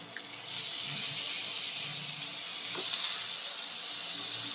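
Grated chikoo and roasted coconut sautéing in a pan over low heat. A steady soft sizzle and hiss continues throughout, with faint scraping now and then and no voices.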